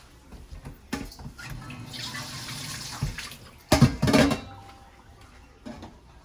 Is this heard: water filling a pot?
yes